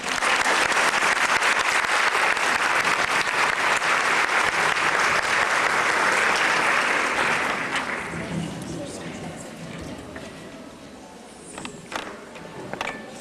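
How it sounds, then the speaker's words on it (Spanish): Warm applause from an audience at an evening teacher-training talk on preschool mathematics, dense steady clapping for about seven seconds, then fading into scattered claps and room murmur. "la maestra Irma Fuenlabrada, para quien les pido un caluroso aplauso"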